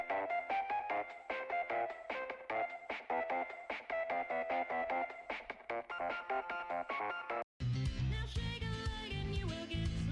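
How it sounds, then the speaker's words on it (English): A mobile phone ringtone plays as a busy, melodic tune with dense repeated notes, loud and close, cutting off abruptly before a different burst of broadband music takes over. "Hang on, I'm getting a phone call."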